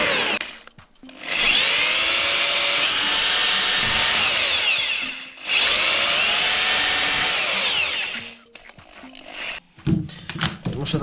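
A cordless drill driver bores through a window frame during a warm window installation. It gives two sustained, loud whirring runs of several seconds each, with a brief pause between them, followed by some handling clatter.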